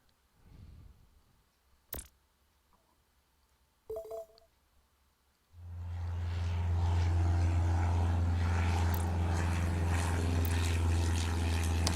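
Propeller airplanes in the 1920s-era airport game Airport Madness: a few sharp clicks and short beeps, then a loud, steady engine drone swells in and holds to the end.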